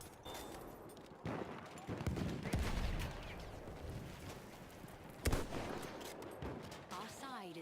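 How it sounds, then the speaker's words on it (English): Video-game gunfire sounds during sniping, with several sharp, distinct shots scattered irregularly among a busy, quieter background of game noise. "Then onto some precision sniping."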